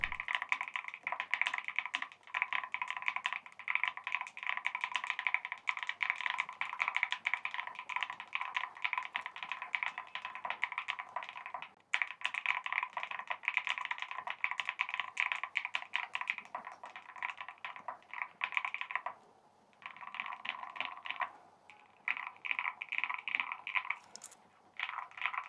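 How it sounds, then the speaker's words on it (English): Fast, continuous clacking of keys on a small custom 3D-printed mechanical keyboard, close and crisp, with only brief pauses in the rhythm. "And now let's go to the sound test."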